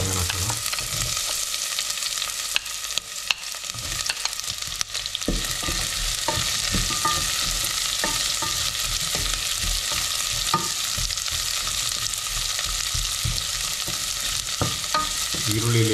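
White onion fries in a pan for a butternut squash dish, heard as a loud, continuous sizzle with repeated close scraping stirs throughout and no voices.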